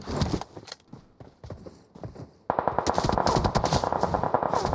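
Rapid bursts of automatic gunfire in a PUBG Mobile firefight, loud and close, first in short broken volleys then a sustained dense stream of shots.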